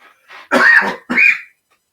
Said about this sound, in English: You know how it is when you just all of a sudden get that random cough